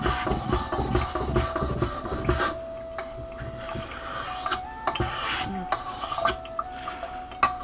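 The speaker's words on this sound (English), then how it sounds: "We'll do a little bit of touch up here using the finest stone only" A Cold Steel AK47 pocket knife is stroked across a fine whetstone, close, irregular scraping rubs in short bursts with brief pauses between passes.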